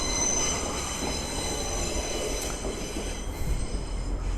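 A train passes nearby in Australia with a loud, steady rumble of rolling wagons and a thin, high wheel squeal running through it. No one speaks.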